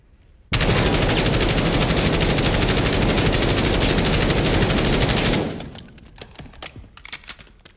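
Loud, continuous automatic gunfire from a Call of Duty weapon: a sustained rapid burst of shots lasting about five seconds, then cutting off into quieter scattered game sounds.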